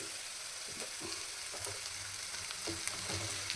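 Okra frying in a pan for okra fry, a continuous close hiss and sizzle with occasional soft scrapes of stirring, no talking.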